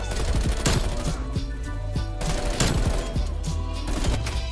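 Continuous video game gunfire from a weapon held on full auto, a dense, steady stream of rapid shots with periodic louder bursts, close and loud with no talk.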